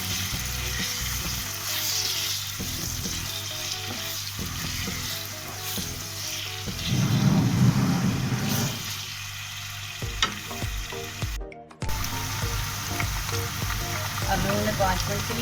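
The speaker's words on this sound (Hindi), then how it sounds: "ज़ीरे के साथ ही आलू फ्राई करना।" Potatoes fry with cumin seeds in a pan, a steady close sizzle broken by scraping stirs and a brief louder burst midway, with music playing throughout.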